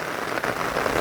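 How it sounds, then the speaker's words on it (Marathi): Heavy monsoon rain pours down over farm fields in the Konkan region as a dense, steady hiss of drops hitting surfaces. It is loud and close and continues without a break for the whole moment. "चला फायनली जोरात पाऊस आला बरं बेटा."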